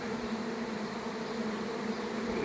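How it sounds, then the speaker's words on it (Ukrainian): A honeybee swarm that has returned to its hive buzzes in a dense, steady, loud drone that fills the whole stretch, close and continuous with no other sounds. "цей рій теж вернувся назад"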